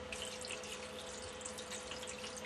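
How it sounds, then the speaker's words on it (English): Sterilizing solution pours steadily into a bottle-cleaning container for home brewing, a continuous splashing liquid hiss that fills the clip at moderate level, with no talking. "I'm going to take my sterilizing solution, okay, and I'm going to pour it into my bottle cleaning"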